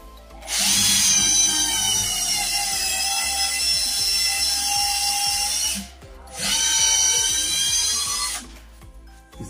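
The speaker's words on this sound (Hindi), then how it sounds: "इससे भी इसमें होल करके देखेंगे।" A Bosch GSB 120-LI cordless drill-driver bores a hole through a workpiece: a loud, high whine runs about five seconds, cuts out briefly, then spins up again for a shorter second burst, with faint knocks and handling noise underneath.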